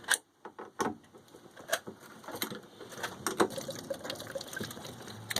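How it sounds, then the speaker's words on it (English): Diesel fuel drains from the filter drain of a Yanmar 2GM20F sailboat engine into a cut-off water bottle, a close, uneven trickle and splash of liquid with scattered small knocks and drips. "And then we're going to drain the fuel."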